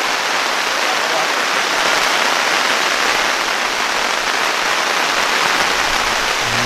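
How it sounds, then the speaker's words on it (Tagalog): Steady rain falls on a campsite, a dense, even hiss of drops pattering on tent fabric and ground throughout, close and continuous with no pauses. "Pumapatak na naman ang ulan."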